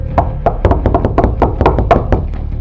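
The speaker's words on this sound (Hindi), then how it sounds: "बिल्ला छोटे रास्ते से टाइनी से भी जल्दी उसकी नानी के घर पहुंच जाता है और उसकी नानी के घर का दरवाजा खटखटाता है" A cartoon cat knocks on a grandmother's house door, a loud, crisp run of about a dozen rapid knuckle raps in an uneven rhythm, close and alone.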